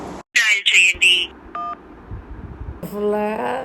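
Short electronic telephone keypad tones beep briefly between bursts of nearby talking, while calling customer care.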